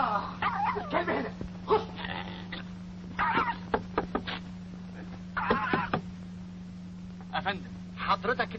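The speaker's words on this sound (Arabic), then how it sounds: "الكلب هنا" A dog barks in short yips and whimpers in scattered bursts during a film scene, mixed in with people talking over a steady electrical hum.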